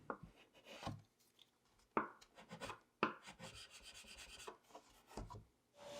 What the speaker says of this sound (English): Some light shaving with the chisel gets all the parts nearly flush.